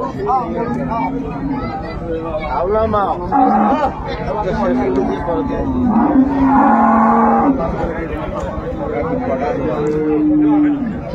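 Improved-breed dairy cows and calves moo repeatedly at Raniganj cattle market in Dinajpur, loud and close, their drawn-out calls overlapping with a busy babble of people talking nearby.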